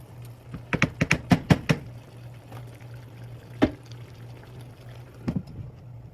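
Liquid poured off a pan of fried collard greens: a short cluster of splashy pours and clinks near the start, then a quiet pause, a single splash and a final brief pour over a steady low hum.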